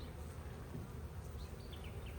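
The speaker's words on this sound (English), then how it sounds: "Inner cover's got a pretty good bit of bees on it." Honey bees crowd the inner cover of a hive from a newly boxed swarm, a dense, close, continuous buzzing hum with individual bees whining past.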